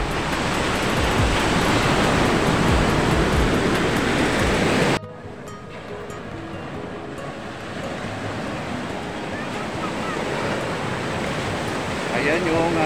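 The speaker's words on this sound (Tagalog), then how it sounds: "nalakas na mga alon dito" Ocean waves rolling in at a surfing beach, a loud, dense roar of surf that abruptly drops to a quieter, distant wash of water and wind halfway through.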